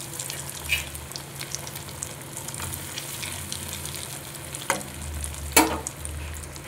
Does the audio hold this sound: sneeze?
no